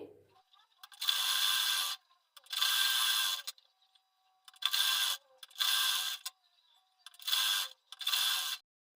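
Five short, sharp mechanical bursts come from a sewing machine stitching tucks on a plain blouse, each lasting about a second with near silence between, close and clear.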